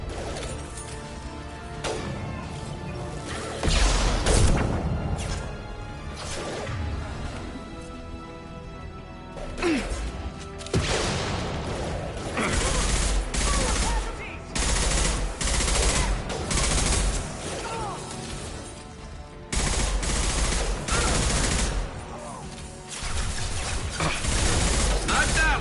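In the Mass Effect game, an impact shot and rapid gunfire ring out repeatedly, with loud bursts of shots, heavy impacts and crashes in quick clusters over a long battle, with voices calling out between volleys.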